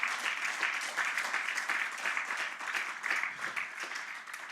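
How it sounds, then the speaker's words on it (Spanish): Sustained applause from a church congregation during a sermon, a steady dense wash of clapping that stays even and fairly loud for the whole stretch with no voice on top. "Un aplauso fuerte para mi Señor."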